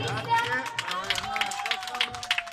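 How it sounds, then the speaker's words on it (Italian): Applause for a singer at a party event: scattered hand claps from a small crowd over a background of chatter and an announcer's voice. "Un applauso Ok. a Cristian."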